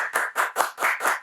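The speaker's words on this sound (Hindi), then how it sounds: "तालियां" Studio audience clapping for a podcast guest, a short burst of five loud, evenly spaced pulses of massed claps, close and rhythmic, with no talk over it.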